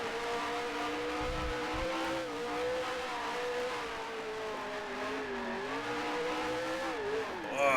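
Grand Prix Legends racing car engine held at full throttle, a loud sustained high-revving whine with slight pitch wobbles as the car slides, continuous and alone, swelling louder at the very end.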